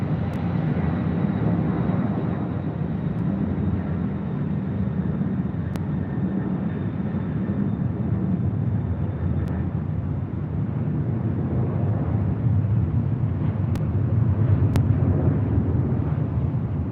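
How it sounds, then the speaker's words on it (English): MD-11 airliner taking off on the south side of LAX, a loud continuous roaring jet rumble heard from a distance with wind buffeting the microphone, steady for the whole stretch. "And we do have that MD-11 taken off there on the south side."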